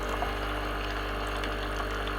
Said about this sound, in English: hit the button again, and it dispenses cold water